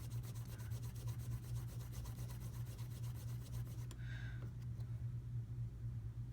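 A washer from a Benchmade 950 Rift pocketknife is stropped, giving quiet, rapid, even rubbing strokes for about four seconds over a low steady hum, then the rubbing stops.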